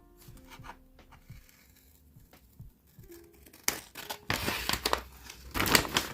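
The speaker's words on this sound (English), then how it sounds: "I'm just going to cut along the flannel print." Scissors cut along flannel-print paper for a homemade Christmas journal cover, with quiet snipping and rustling early on, then louder crinkling and rubbing paper sounds close up in the second half.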